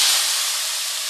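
Kangkong (water spinach) dropped into a hot pan, a steady loud sizzling hiss that starts sharply and holds evenly for about a second.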